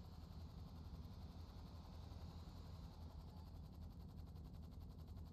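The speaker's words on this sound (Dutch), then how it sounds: "Waarom hoor ik een helikopter?" A helicopter flies in a roleplay video game, its rotor giving a steady, pulsing rumble with rapid chopping that stays constant and fairly distant.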